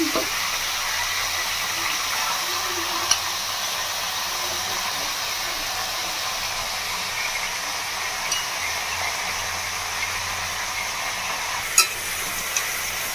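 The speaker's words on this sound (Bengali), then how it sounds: "ভালো করে আমি ভেজে নেব মাংসটাকে তেলের মধ্যে" Desi chicken meat frying in hot mustard oil, a steady continuous sizzle close by with occasional small pops and clicks, no talking.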